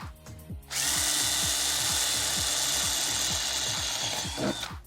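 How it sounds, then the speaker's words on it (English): A power drill bores a hole through a plexiglass window panel, a steady loud whirring grind that runs continuously after a brief start-up, with a rhythmic low ratcheting pulse underneath. "And then just drill a hole all the way through."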